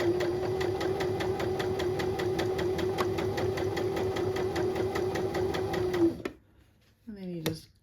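A sewing machine runs continuously while stitching a waistband, a fast, even mechanical chatter close to the microphone for about six seconds before stopping, followed by brief quiet handling sounds.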